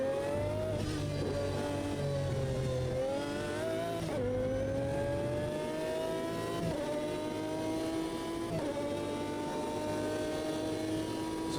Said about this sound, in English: So far you can hear the engine sounds really nice in this car.